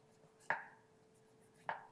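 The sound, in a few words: knife scoring raw chicken on a chopping board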